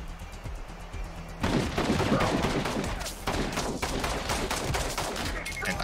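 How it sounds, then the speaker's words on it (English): Gunfire in a VR action video game, a dense run of rapid shots and bursts that starts abruptly and continues loudly to the end. "gunfighting feels great."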